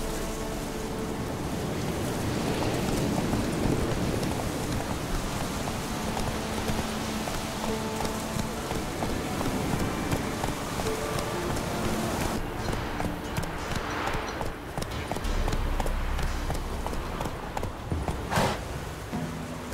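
Geralt's horse Roach in The Witcher 3, hooves clopping steadily at a riding pace over a continuous wash of rain-like ambience and game music.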